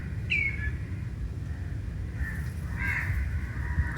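Crow cawing at Kadalundi Bird Sanctuary among mangroves and backwaters, a few harsh calls at moderate distance over steady low boat engine rumble.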